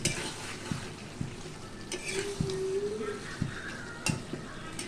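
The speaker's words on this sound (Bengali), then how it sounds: "ভিতরে একটু নাড়াচাড়া করে দিতে হবে, যাতে মাংসটা ভেতরে ধরে না যায়।" Country chicken curry stirred in a pot, a low bubbling simmer with a faint sizzle, spaced knocks and scrapes of a spoon against the pot, and a brief whistle-like tone in the middle.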